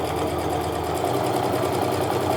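A sewing machine runs steadily, stitching pieced quilt fabric at a fast, even, close-up hum with a rapid regular needle rhythm and no talk.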